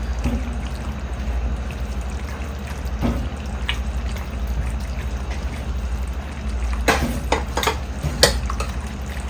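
Pasta is stirred through a creamy Tuscan shrimp sauce, giving a steady wet, thick churning with soft bubbling. A few sharper utensil knocks against the pan come near the end, up close, with no voices.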